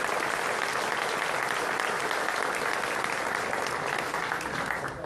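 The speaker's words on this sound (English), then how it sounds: "let's all give them a round of applause" An audience at a city State of the City address applauds in a dense, sustained wave of clapping that holds steady throughout and eases slightly at the end.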